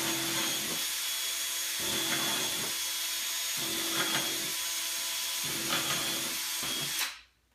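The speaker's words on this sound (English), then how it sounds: "I'm just going to start drilling these holes, 1/8 inch drill bit, approximately 1 inch apart." A power drill with a 1/8 inch bit bores a series of holes into a plastic bin, about eight short whining bursts in a steady rhythm, close and loud, before stopping abruptly at the end.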